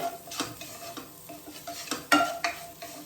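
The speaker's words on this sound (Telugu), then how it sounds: "ఈ వెజిటేబుల్స్లో వేసేసుకొని ఇవి కూడా బాగా ఫ్రై చేసుకోవాలి." Vegetables with mixed herbs are stir-fried in a pan, a soft sizzle under repeated scrapes and knocks of a spatula against the metal, with sharper clinks near the end.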